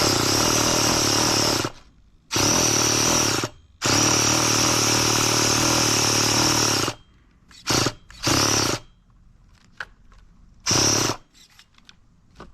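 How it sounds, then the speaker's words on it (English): A nitro RC car engine with a carburetor being tuned and troubleshot, throttle opened slightly, roars loudly in several bursts of a few seconds each, with shorter sharp revs and quiet gaps between them. "let's open the throttle slightly and see if that makes a difference"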